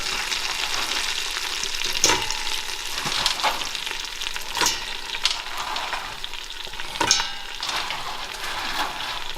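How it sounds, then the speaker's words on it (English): Chopped Twix bars get stirred into a hot pan, giving a steady sizzle with scraping spoon strokes and a few sharper clinks against the metal, close and without talk. "I'm gonna put the chopped up Twixes in"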